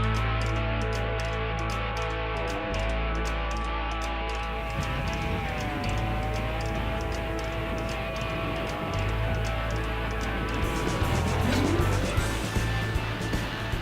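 Car cruising along a road on a road trip toward Arizona, a steady low engine and road drone with tire rumble running continuously, close and loud, with faint voices now and then.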